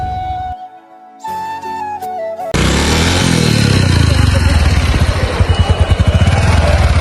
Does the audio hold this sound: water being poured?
no